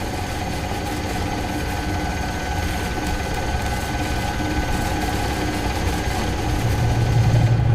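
An engine runs close by at a steady, loud idle after being cranked and fired up, a constant mechanical drone with a rough vibrating texture.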